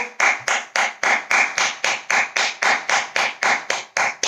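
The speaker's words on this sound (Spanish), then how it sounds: "Os invito a que nos demos un aplauso" Applause from a small group, heard as a sharp, even run of about fourteen loud, close claps in steady rhythm.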